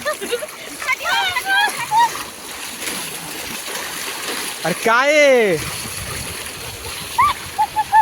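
River water splashes in bursts while people play during clothes washing at a riverside, with loud voices and shouts close by throughout.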